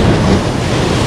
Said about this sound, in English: I just got splashed really bad